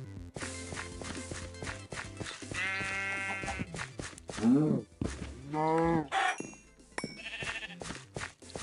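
Sheep bleat in a wavering, game-like tone in the Skyblock Fossils & Archeology game, a few calls rising over busy background music and effects, with a voice cutting in briefly.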